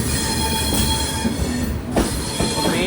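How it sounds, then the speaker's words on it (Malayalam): Intercity Express train rolling into the main platform at Vijayawada Junction, with a steady loud rumble of wheels on track, metallic squeal and clatter, and a sharp burst of brake noise near the end. "മെയിൻ പ്ലാറ്റ്ഫോമിലേക്ക് തന്നെയാണ് വണ്ടി വരുന്നത്."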